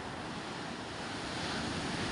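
Big sea waves surge and roar steadily around a fishing boat hauling a net, a dense continuous wash mixed with wind buffeting the microphone.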